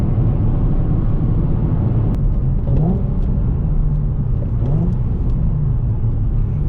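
A Nissan 350Z Nismo accelerating hard through the gears on a roll run along a back road, with a steady loud engine drone and rising tones, heard from inside the car without talk.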